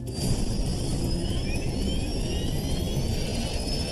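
Jet engines of the Copa Airlines Flight 201 airliner roar steadily in flight, a loud continuous broadband rush with a faint high whine, with no voices.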